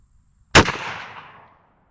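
A single sharp report from a Rossi R95 lever-action rifle chambered in 30-30, loud and close, with its echo trailing off over about a second after a quiet lead-in.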